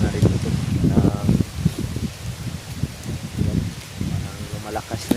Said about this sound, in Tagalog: lumalakas na yung hangin